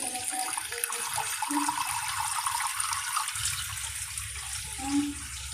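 Tap water running steadily in a home kitchen, a constant close hiss and splash with faint clinks now and then and no talk.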